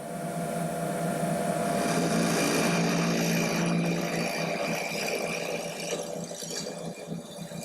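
A drill press bores into a 2x4 clamped in a vise, a steady loud motor whine with broadband cutting noise running throughout, easing slightly toward the end.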